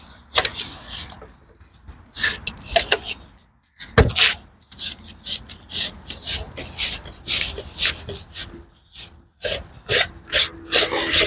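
Rough rasping cuts into a wooden cookie slice, a cross-section of a log being shaped into a serving tray, taken about a quarter inch deep; bursts of scraping come in uneven strokes, close up with brief pauses.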